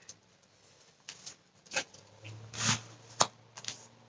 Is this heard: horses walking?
no